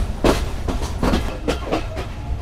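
Banglabandha Express intercity train pulling into Natore railway station, its wheels beating out a regular clickety-clack of rail joints, several evenly spaced thumps over a steady low rumble.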